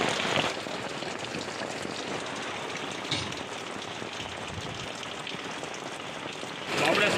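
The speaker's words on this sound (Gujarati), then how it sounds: "અત્યારે વરસાદ ચાલુ થઈ ગયો છે" Steady rain falls outdoors for about seven seconds, an even close hiss of drops on surfaces, with a brief louder patch near the end.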